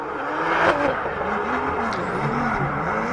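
A drift car at a French drift championship final at Val d'Argenton accelerates hard, its engine revving and rising in pitch as it pushes onto the straight, loud and close with no talk.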